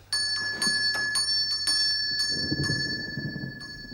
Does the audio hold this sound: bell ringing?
yes